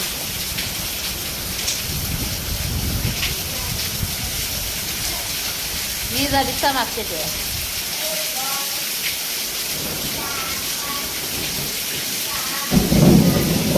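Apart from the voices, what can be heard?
heavy rain with thunder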